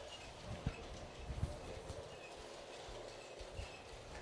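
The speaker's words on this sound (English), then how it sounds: "Never really operated trains before, but we gotta see Michael Jordan going around" A model train from Home Alone runs around its track in a large home. The faint, steady rolling rumble is broken by a few light clicks and rattles, and there is no talk.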